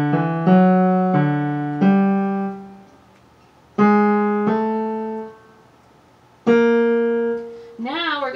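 A keyboard plays one line of Bach's Marche: clear, separate piano-like notes in a steady quarter-note rhythm, grouped in short phrases with brief pauses between them, close and fairly loud with no voices.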